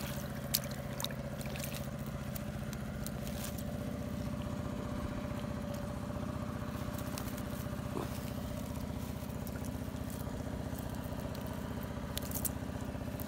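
A small boat's engine runs steadily at night on the water during a frog-hunting trip, a continuous low droning hum with a constant tone and no talking over it.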